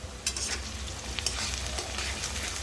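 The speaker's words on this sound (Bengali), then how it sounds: "এবার দেবো আদা রসুন বাটা" Ginger-garlic paste and softened onions fry in a pan for an egg tarka, a steady hiss of sizzling broken by scraping stirs, close and continuous with no voices.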